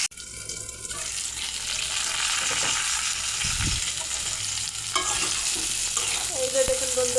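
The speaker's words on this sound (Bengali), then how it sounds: "এখন আলুটা আমি লাল লাল করে ভেজে নেব" Potatoes sizzle steadily in hot oil in a home kitchen pan for a Bengali duck curry, a continuous close frying hiss with a few stirring scrapes and a brief tap-water splash near the end.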